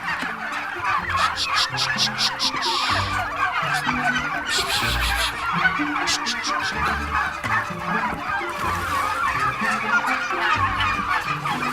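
Turkeys gobble in a farm shed full of birds, repeated rapid rattling gobbles rising from several birds at once over a busy background of clucks and honks, loud and close.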